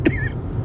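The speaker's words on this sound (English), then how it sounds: "God, what is making me cough?" A single sharp cough bursts out near the start, close and fairly loud, then fades into quiet room tone.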